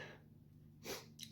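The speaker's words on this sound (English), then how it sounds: "I'm going to sneeze." One sharp, close sneeze bursts out after a moment of quiet breathing, followed by a short second exhale or snort.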